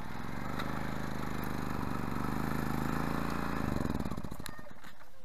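A petrol generator running on the last fuel in its carburettor, a steady close engine drone that falters and sputters toward the end as it starves and stalls.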